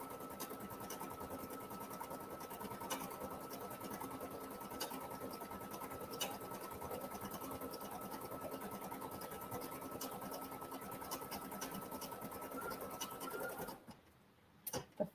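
An embroidery machine stitching a floral design runs in a fast, even mechanical chatter with a steady hum, faint and close, before stopping abruptly near the end with a few clicks.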